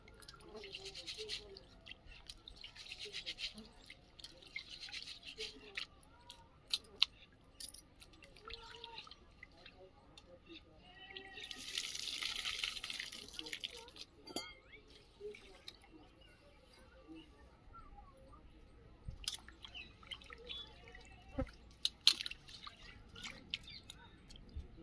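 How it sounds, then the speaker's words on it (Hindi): Rice being washed in a pot of water beside a wood-fired clay stove, with soft splashing, dripping and swishing through the clip, one louder stretch of rinsing midway, and faint background sounds. "तो चावल को हमने अच्छे से धुल लिया है।"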